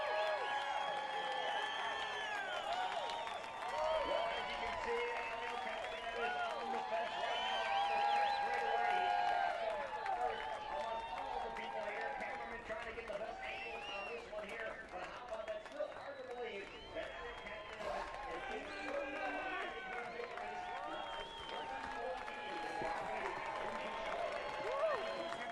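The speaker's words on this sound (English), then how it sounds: "Listen to the crowd." A big crowd at an IndyCar race at Iowa Speedway in 2017 roars and claps in a steady, sustained wash of cheering, with a voice talking over the noise throughout.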